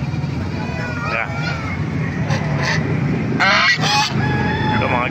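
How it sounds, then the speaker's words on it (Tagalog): Geese honk loudly in bursts at a busy poultry and bird market in Baliuag, with a steady crowd murmur and voices talking underneath. "Ito mga gansa oh. Lalaki ng gansa oh."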